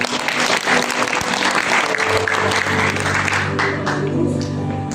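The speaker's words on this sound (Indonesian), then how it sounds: "Tepuk tangan buat Tuhan yang kasih." A church congregation at a Sunday Pentecostal worship service in Makassar claps steadily, a dense, loud wave of applause filling the hall throughout, with music faintly underneath.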